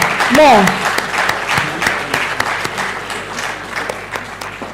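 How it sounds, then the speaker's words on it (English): Audience applause in a hall at a national launch event in Nigeria for a Central Bank of Nigeria deputy governor, steady dense clapping with a voice briefly rising over it at the start. "I thought I would hear a round of applause"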